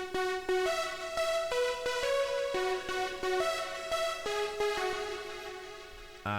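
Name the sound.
two layered synths playing main melody in LMMS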